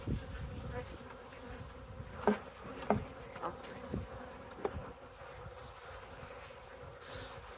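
A low, steady buzz of many honeybees hums close by during transfer from nucs to a Langstroth hive, with occasional soft knocks and handling sounds on top.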